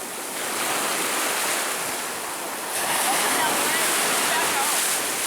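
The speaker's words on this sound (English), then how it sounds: "Got some good sized waves today." Large ocean waves break and wash onto the shore at Assateague Island in a continuous loud roar, with wind noise buffeting the microphone.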